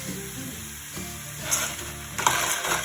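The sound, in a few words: lentils being stirred in a pan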